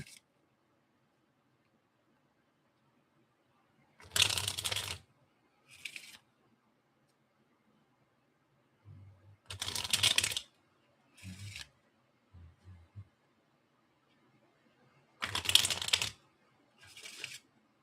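Three bursts of riffle shuffling tarot cards, each a quick crisp flutter followed by a short tap, spaced several seconds apart in otherwise quiet surroundings.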